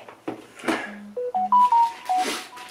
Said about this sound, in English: Go away, that's my phone.